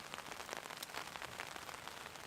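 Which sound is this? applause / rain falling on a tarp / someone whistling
rain falling on a tarp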